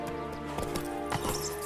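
A few hoof clops from Roach, the horse in The Witcher 3, land as the animal slows, sounding close but soft under a sustained musical drone.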